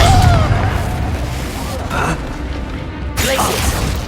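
Confringo, an explosive spell in Hogwarts Legacy gameplay, bursts with a loud booming blast at the start, followed by a couple of further impact thumps and crackling bursts over game sounds and a brief voice.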